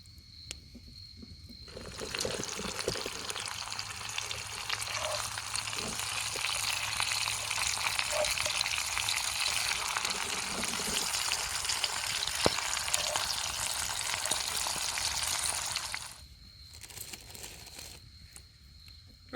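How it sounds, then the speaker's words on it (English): Food sizzles and pops over the hot coals of a very hot campfire at a North Carolina outdoor cooking spot. A dense, steady hiss with scattered crackles swells up, holds for about fifteen seconds, then drops away abruptly. "you'll start seeing it sizzling and popping here in just a minute, because that's a pretty hot fire"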